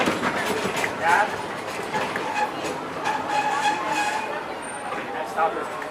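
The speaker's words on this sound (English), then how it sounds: "seated until the train comes to a complete stop" A Disney theme park train rolls along its rails: a rumbling, clattering ride with rhythmic clicks of the wheels, heard close from on board. People talk over the noise.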